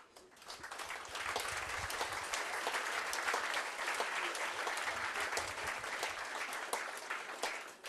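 An audience at a festive ceremony applauds a welcomed guest, dense sustained clapping from a crowded hall that swells quickly and holds steady for several seconds.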